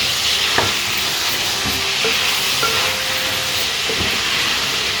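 Masala and tomato puree fry steadily in hot oil for a home-cooked eggplant gravy, a dense continuous sizzle and hiss with a few soft clinks of stirring, close and loud, no voices.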